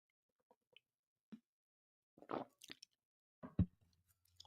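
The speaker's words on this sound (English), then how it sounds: "let me take a sip of my water" Quiet wet sips and small swallowing squishes of a drink of water, a few soft, sparse sounds close to the mic against near silence.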